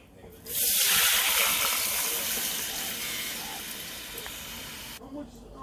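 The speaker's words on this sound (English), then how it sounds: "Here goes the oil. Just enough to cover the bottom." Oil hisses and sizzles in a hot pot just before rice goes in, a loud, steady frying wash that starts abruptly and cuts off near the end.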